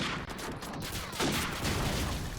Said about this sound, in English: I'm playing some COD 4. We're sniping with the ACOG.